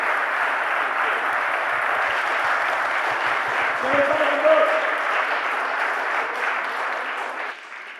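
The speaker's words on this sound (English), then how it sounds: "a big round of applause for the amazing Brian Catlos" Sustained applause from a festival audience at the Jaipur Literature Festival for historian Brian Catlos, a dense steady wash of clapping that carries evenly for about seven seconds before tapering off at the end.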